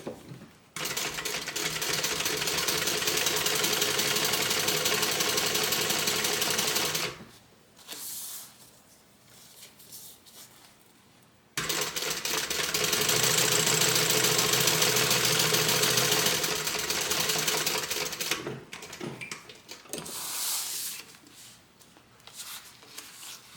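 A sewing machine top stitches the gusset lining of a water bottle tote bag, running in two long steady whirring bursts of about six seconds each, with short pauses and lighter handling in between, close up and without speech.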